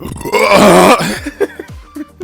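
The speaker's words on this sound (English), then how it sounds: "Sparkling water makes me burp." A loud, drawn-out burp after drinking sparkling water, rumbling close and alone for most of a second, followed by a few short throat sounds and small clicks.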